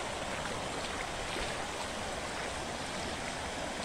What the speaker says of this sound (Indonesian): air sungai sudah meluap